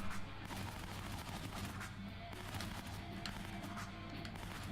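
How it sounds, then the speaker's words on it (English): Uzi submachine gun fire in the action brawler Shank, rapid bursts of shots rattling over a loud, dense game soundtrack, steady and close without pauses. "explore the opportunities of shooting lots of bullets very fast"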